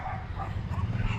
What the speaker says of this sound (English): She's got a gaggle of dogs that don't like me.